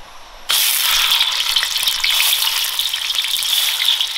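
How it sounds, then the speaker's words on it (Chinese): Firm tofu slices hit hot oil in a pan and break into a loud, steady sizzle that holds strong and even throughout, close and alone. "把它煎到一面焦焦的，就可以给它翻个面了哈。"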